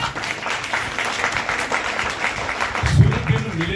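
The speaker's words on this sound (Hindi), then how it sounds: "एक बार आपके लिए जोरदार ताली" Audience applause at a stage performance of music and dance, a moderate wash of many hands clapping, fairly steady and somewhat distant, with a voice coming in near the end.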